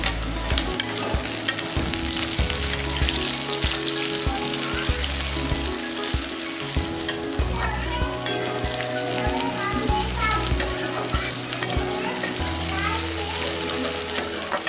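Onions and chopped tomato fry and sizzle loudly in a pan, with constant stirring scrapes and a steady crackle throughout.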